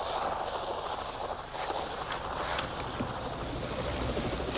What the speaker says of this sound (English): Annabel, can you make your way back to the helicopter, please?